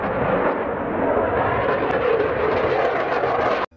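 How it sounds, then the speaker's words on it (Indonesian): A Dassault Rafale, a French fighter jet, roars with a loud, steady broadband engine noise that holds for several seconds, then cuts off abruptly at the end. "Dassault Rafale merupakan jet tempur produksi Prancis"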